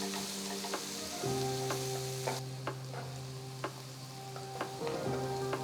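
Onions sizzle steadily in a hot pan with green chillies while a spoon stirs and scrapes at irregular intervals, with a low hum underneath.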